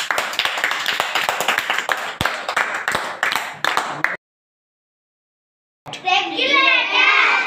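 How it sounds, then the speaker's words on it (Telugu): A group of children clap their hands in rapid, irregular bursts for about four seconds, then fall silent before an adult voice speaks. "క్లాప్స్ కొట్టండి."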